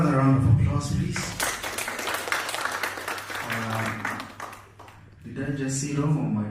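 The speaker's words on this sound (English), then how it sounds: "Another round of applause, please." Applause from an audience at a hospital launch ceremony rises as a burst of dense clapping between stretches of amplified talking, fading as the speaker resumes.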